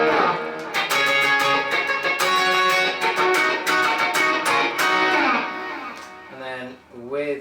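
Overdriven electric guitar played through a J-Rock Audio Animal OD overdrive pedal with the chorus switched off, strummed chords ringing loud and dense for several seconds, then a few sparser picked notes at the end, with no talking.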